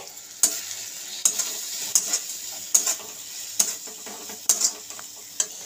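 Pav bhaji masala, turmeric and salt roasting in a pan with a faint sizzle, punctuated by about eight sharp scraping strokes of a spoon stirring at a steady, unhurried pace.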